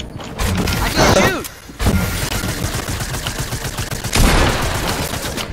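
Gunfire in Fortnite comes as loud, dense bursts of rapid shots with mechanical clatter, continuous across the clip and swelling again near the end.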